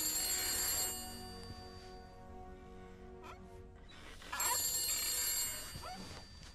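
An old-fashioned telephone bell rings inside a house in the horror video game The Beast Inside, two loud metallic ringing bursts separated by a quieter pause with faint room noise.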